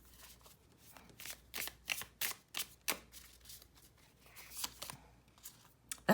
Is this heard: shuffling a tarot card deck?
yes